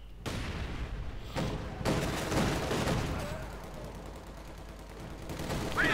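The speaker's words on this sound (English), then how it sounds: "With a light machine gun, heavy machine gun fire there from RedxWings." Automatic and heavy machine gun fire in a Company of Heroes 2 match, sustained bursts and rattling volleys with a few sharp bangs, loud and continuous under battle noise, with a commentator's voice faintly mixed in.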